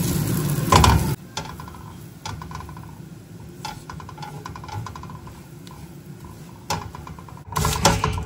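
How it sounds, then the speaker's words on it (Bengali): Cumin seeds, whole garam masala spices, dried red chilli and bay leaf sizzle in melted butter in a home kitchen pan, a steady close crackle with scattered pops and a louder burst near the start and end. "জিরাটা একটু ভাজা হোক"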